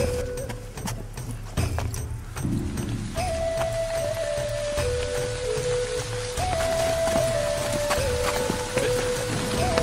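Boxed wine glugging out of a cubi, a steady splattering pour that sounds like rain on a hard surface, with a few sharp knocks and a tonal whine running through it at close range.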